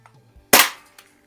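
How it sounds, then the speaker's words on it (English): A single sharp BB gun shot, likely from an Umarex XBG or Daisy 340 air rifle, cracks loudly and close, followed by a brief faint knock. "Seems like all of these want to shoot off to the left on me here."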